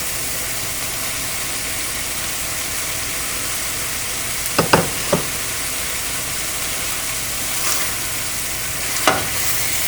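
Mashed rohu fish with oil and cilantro stirred in a pan for a bharta, a steady frying hiss with a few sharp spoon scrapes in the middle and one near the end.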